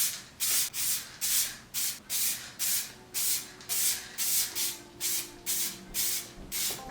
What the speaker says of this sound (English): Trust me, it's silver spray paint